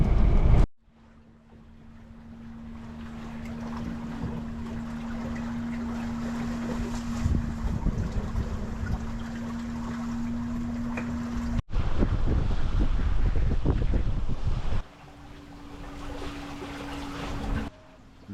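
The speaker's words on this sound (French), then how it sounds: "on fait de la belle voile sur le lac Brador" A sailboat under sail on Bras d'Or Lake, heard as a steady rush of wind and water with blustery wind buffeting the microphone. A low tonal hum runs through most of it, and there are abrupt breaks in the sound.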